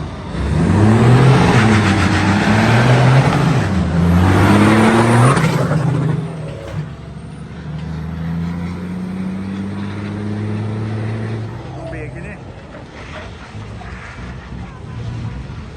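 A ten-wheel truck drives past loudly with a deep revving engine and hiss, then brakes and idles more quietly for the remaining seconds.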